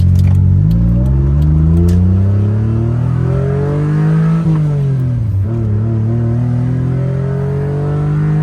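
A tiny 3-cylinder Honda JDM car drives off nearby, its engine droning loud and steady, rising in pitch through the gears with brief dips at each shift.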